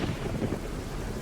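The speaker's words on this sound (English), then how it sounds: "The rain continued to beat down as Jay pounded on the front door." Rain and thunder in a video game, a dense broadband wash of steady rainfall with low rumbling underneath, continuous and fairly loud throughout the short stretch with no talking.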